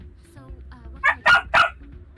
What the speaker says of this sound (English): Oh no, that's dogs barking.